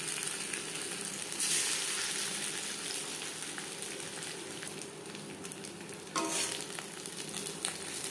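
Pieces of fish fry in hot oil with a steady, close crackling sizzle, broken by a couple of brief louder spatters.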